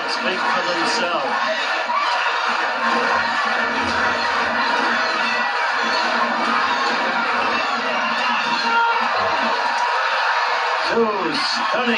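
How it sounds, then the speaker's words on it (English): Boxing-match crowd chanting, cheering and shouting for the full length of a bout between Matthew Saad Muhammad and Dwight Braxton. The dense, steady roar of many voices is loud throughout, with whoops and yells rising over it. "Chants of the crowd speak for themselves."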